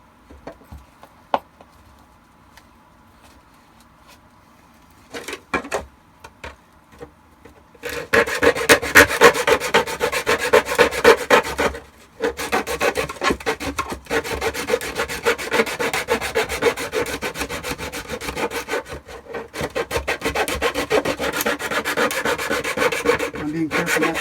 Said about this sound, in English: I can use the sanding tools to try to sand that down a little bit, smooth it out.